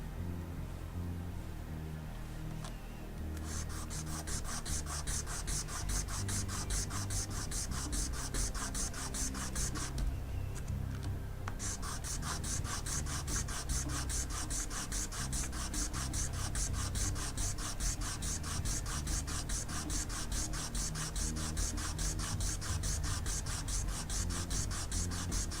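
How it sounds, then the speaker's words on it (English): Sanding a small miniature base produces steady, close, rapid rasping strokes that continue for the whole stretch with a brief pause, quiet and without talk. "Sanding away my fingertip."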